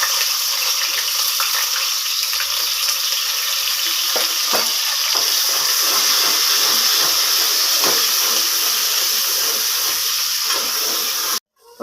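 Steady, close sizzling and crackling of large onions frying in hot oil for a fenugreek-leaf keema gravy, with occasional stirring clinks, continuous throughout.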